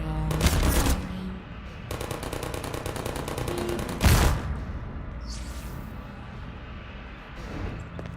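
A video game turret opens fire in bursts of rapid automatic gunfire, a short volley followed by a longer rattling stream, loud and close, with a sharp blast in between and quieter gaps.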